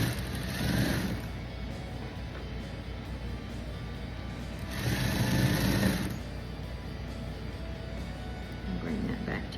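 A sewing machine stitches fabric in short runs, a fast mechanical whir that rises in two bursts over a constant background hum, close and moderately loud.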